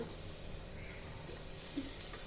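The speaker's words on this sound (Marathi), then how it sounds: "कोबी छान परतून घ्यायचा आहे" Cabbage tossed into a pan with ginger, garlic and onion sizzles in a steady, soft, continuous hiss with faint stirring, close and without voices.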